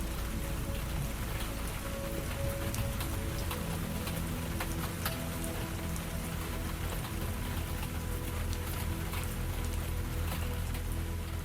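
Steady rain falls on surfaces in a quiet, continuous patter with scattered droplet ticks, soft and even throughout with no voices.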